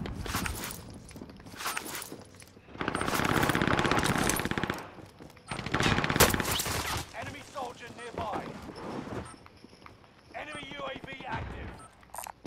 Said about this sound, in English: Careful. I'm getting shot.